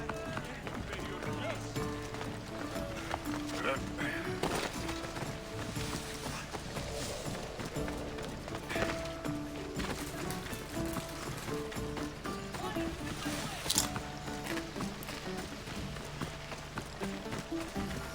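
Horses gallop in a race in Assassin's Creed Odyssey on PC: steady hoofbeats under constant game music, effects and ambience with no pause.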